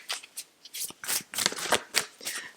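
A deck of tarot cards being shuffled by hand, a quick run of crisp riffling bursts and soft slaps in close succession, near and clear with no talking.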